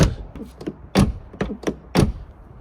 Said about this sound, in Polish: Zobaczcie, jak się drzwi zamykają.